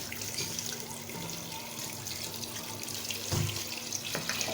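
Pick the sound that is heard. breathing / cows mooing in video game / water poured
water poured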